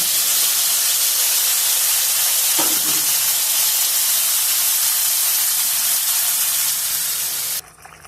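Mustard gravy for hilsa fish kofta bubbles and sizzles in a pan with a loud, steady hiss that holds for several seconds before cutting off abruptly near the end.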